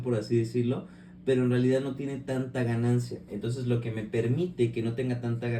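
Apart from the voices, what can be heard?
No everyday noises stand out.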